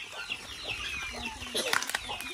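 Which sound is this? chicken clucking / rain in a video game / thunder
chicken clucking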